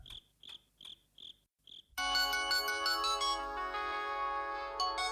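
A mobile phone rings indoors: five short electronic chirps in a steady rhythm, a brief pause, then a loud, sustained melodic ringtone that plays on clearly with no talking over it.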